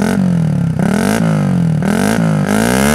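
A loud Suzuki GSX-S 150 motorcycle with an aggressive full-system exhaust revs repeatedly, pitch climbing and dropping in several quick blips, very close.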